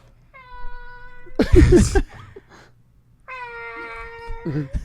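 A voice imitates a cat with two long, drawn-out meows, separated by a brief noisy rustle and some soft sounds.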